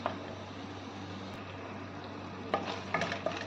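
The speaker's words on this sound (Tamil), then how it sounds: "அதனால் கொஞ்சோண்டு உப்பு போட்டு நம்ம இப்போ வதக்கிக்கிறோம்" Onions and tomatoes sauté with a pinch of salt in a pan for paneer butter masala, a faint, steady low sizzle broken by a few soft spatula scrapes and stirring clicks near the end.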